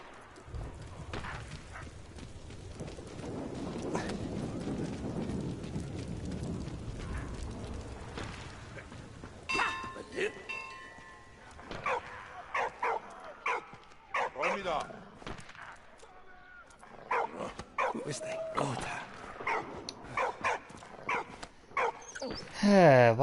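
A dog in the World War I game Valiant Hearts barks in scattered bursts amid clanking mechanisms and occasional hoof-like clatter, while someone talks over much of the scene.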